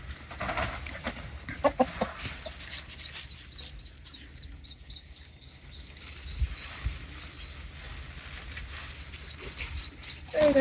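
Chickens cluck and chatter steadily on a rainy Galician farm, some calls close and loud, others softer, over a constant patter and outdoor hiss.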